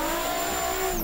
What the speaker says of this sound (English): This car just smokes the tires.